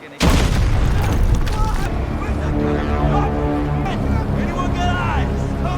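A sudden loud explosion on a bridge erupts and rolls into a sustained, heavy rumble that keeps roaring for several seconds with tonal sounds layered over it.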